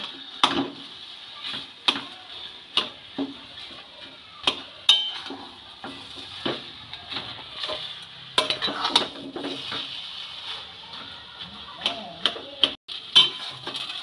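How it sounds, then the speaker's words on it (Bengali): Fish pieces and sautéed potatoes being stirred in a pan for a fish cutlet mixture, with repeated sharp clinks and scrapes of a utensil against the pan in an irregular rhythm, close and fairly clear. "এবার ওই কষানো আলুগুলোর সাথে মাছগুলোকেও ভালো করে কষিয়ে নেব।"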